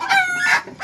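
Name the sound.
free-range village chickens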